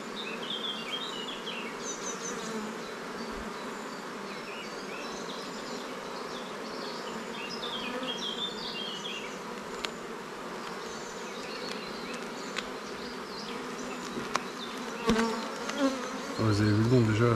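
Steady, dense buzzing of many honeybees being transferred to a new hive fills the air, a continuous droning swarm with a few brief knocks and rustles near the end.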